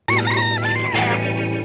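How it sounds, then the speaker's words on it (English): Chickens crow and cluck in one loud, drawn-out, close call that holds steady for over a second and a half. "And we've got chickens."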